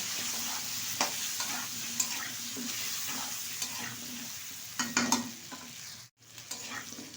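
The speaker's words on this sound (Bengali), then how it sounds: "আমি গাটি কচুটা তেলের সাথে মেরে ছেড়ে নিয়েছি" Taro pieces fry in hot oil with turmeric, giving a steady close sizzle broken by repeated scraping stirs of a spatula against the pan, with no talking.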